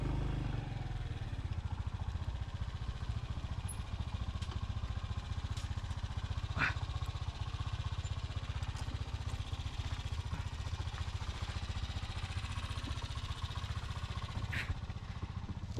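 A motorcycle rides a rough, hidden dirt route toward San José Guayabal, El Salvador, on tires unsuited to the terrain, its engine drone steady and continuous with occasional clatter and bumps, no talk over it.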